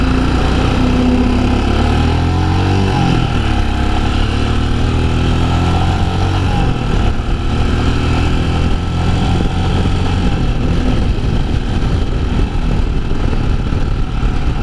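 A Royal Enfield Himalayan motorcycle, still in its running-in period, accelerates hard in first gear. The engine roars loud and close, its pitch climbing and then settling into a steady, throbbing drone with no talk over it.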